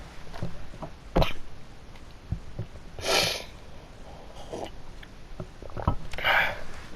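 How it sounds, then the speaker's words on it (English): Several short bursts of a person coughing and clearing the throat, with sharp isolated coughs and a couple of longer breathy fits, moderately close against a faint Minecraft game background. "Sorry, I've had a pretty bad cough the last few days"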